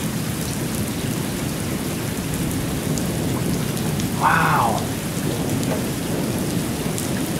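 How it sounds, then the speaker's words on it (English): Heavy rain pours steadily through a thunderstorm rolling in over a cemetery, with continuous low thunder rumbling beneath it. Someone briefly exclaims partway through. "It must be just lightning's going everywhere, rumbling, making noises and stuff."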